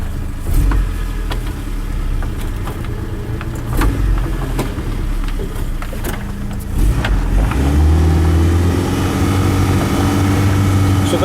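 A Suzuki Samurai fitted with a Rock Block dual transfer case, running in low range with 4.9-to-1 gears, a loud steady engine drone with rumble and occasional knocks, rising in pitch near the end, no talking.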